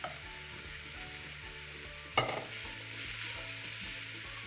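Cabbage and other vegetables stir-frying in a pan for prawn fried rice: a quiet continuous sizzle with one sharp clatter of stirring midway, heard close with nobody speaking.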